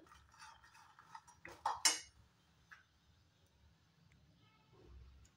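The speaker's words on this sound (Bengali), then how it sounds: "বাদামগুলো খুব সুন্দর করে রোস্ট করে নিলাম।" Peanuts roast in a pan over a gas flame for a spicy jhal mixture, giving a quiet run of metallic clinks and scrapes from stirring, with a short louder rattling burst near the middle and low background hum.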